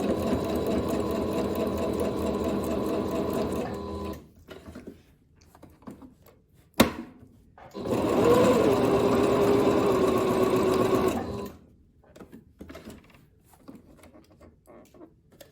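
A sewing machine stitches a pant side seam and pivots around a pocket curve in two sustained runs of rapid, steady whirring, separated by a pause with a sharp click, then quieter handling noises.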